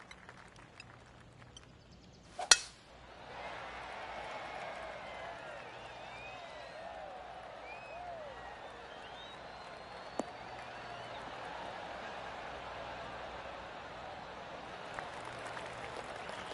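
A gallery crowd gives a soft, polite golf clap in PGA Tour 2K23, a sustained patter of applause after a sharp knock, with scattered bird calls and brief talk.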